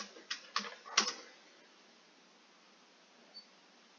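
A few quick clicks of a computer keyboard as a short command is typed, close and crisp, then near silence.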